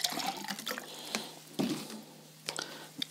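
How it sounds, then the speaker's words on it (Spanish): Water trickles and splashes into a garden bed soil sample, with a few clinks and splatters in a short, close, quiet pour. "Vamos a añadir, como antes, un poquito de agua"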